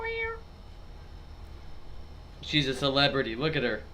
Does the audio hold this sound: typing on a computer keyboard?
no